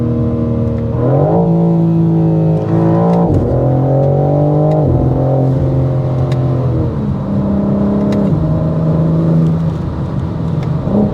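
A 2025 BMW M4 LCI drives on the Autobahn, its engine droning loud and steady with repeated rising and falling pitch shifts as it pulls through gears, the exhaust burbling beneath.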